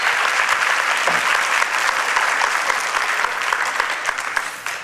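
A worship-service congregation gives loud, sustained applause, a thick continuous roar of many hands clapping together for several seconds with no voices over it.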